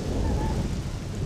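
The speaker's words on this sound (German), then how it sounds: "Es gewittert auch noch." Thunder rumbles low and heavy during a thunderstorm in the video game Mafia, under a steady hiss of rain.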